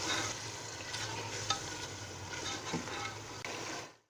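Half a cup of yogurt is mixed into fried masala for haleem, a soft steady sizzle under scraping and stirring with a spoon and occasional light clinks, ending in a quick fade.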